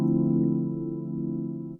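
A single sustained synth chord rings out steadily for about two seconds, then cuts off abruptly.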